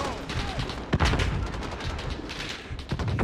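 Machine gun fire rattles in Call of Duty: Modern Warfare, with dense gunfire and sharp bursts standing out over constant background game noise.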